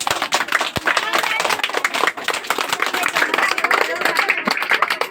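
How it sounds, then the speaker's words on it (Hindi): A group of children clap loudly together during a children's lesson on animals and their homes, with dense, continuous clapping and an adult voice speaking over it. "सब अपने लिए एक बार जोरदार ताली बजा लो।"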